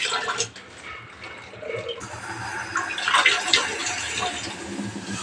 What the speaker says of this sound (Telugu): టీ దీంట్లో పోసుకోవాలి.